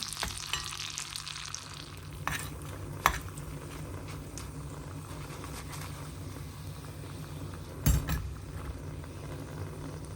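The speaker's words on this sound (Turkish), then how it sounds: "Biberlerim kızarana kadar ocakta tutuyorum." Peppers fry in oil on a stovetop with a faint, steady sizzle, interrupted by a couple of soft knocks from a utensil or pan; quiet and close, no talking.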